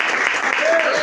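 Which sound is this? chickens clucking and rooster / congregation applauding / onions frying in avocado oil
congregation applauding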